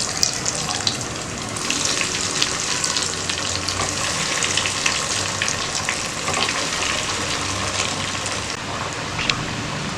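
Mutton cutlets deep-fry in hot oil with a loud, dense crackling sizzle that runs steadily throughout. Occasional sharper pops stand out close up, and no one speaks.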